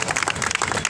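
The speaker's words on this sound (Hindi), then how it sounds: "एक बार जोरदार तालियां हमारे भाई के लिए।" Brief, dense burst of audience applause at a Hindi quiz-style public event, loud and steady with no pauses.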